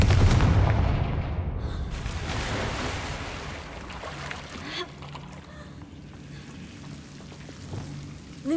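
A Confringo blasting spell explodes in Hogwarts Legacy, a loud booming burst at the start that rumbles and fades into a low, lingering roar.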